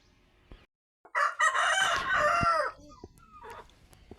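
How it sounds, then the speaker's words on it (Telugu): A rooster for sale on a poultry farm crows once, loud and close, a long harmonic call lasting about a second and a half, followed by softer clucks and faint farm noises. "ఇంకో పుంజు ఉంది అది కూడా చూపిస్తాను"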